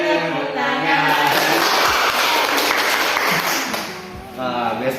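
Children in a classroom clap their hands together in a dense, enthusiastic burst lasting a few seconds, with chanting voices heard just before and after.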